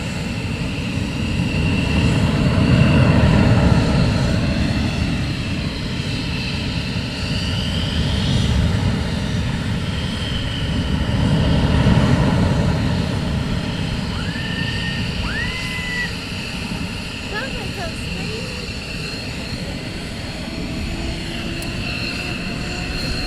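Military jet engines run at RAF Lakenheath during a morning launch, a loud continuous roar and whine that swells and eases in waves. The sound comes from fairly close and continues without a break, with no voices.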